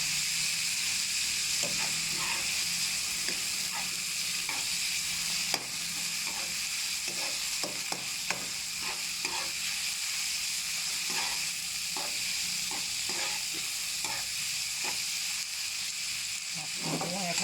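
Marinated pork for pad see ew stir-fried in a pan, a steady loud sizzle with irregular scraping and clacking of a spatula throughout, no voices.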